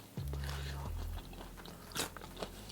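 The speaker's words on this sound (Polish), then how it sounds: "Spróbuję go i zobaczymy, jak będzie chrupał." A crisp bite into a fried KFC Korean-style chicken wing gives a sharp crunch close to the microphone, followed by quieter chewing, with a low murmured hum over it.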